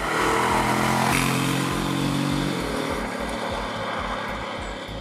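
A Honda Forza 750 scooter engine runs nearby, a throaty, pulsing rumble that rises briefly and then settles into a steady idle-like throb, fading slightly toward the end.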